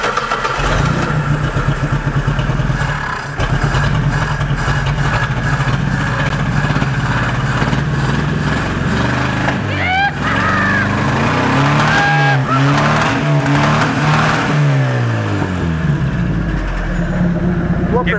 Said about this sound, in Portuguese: Vou ligar o carro.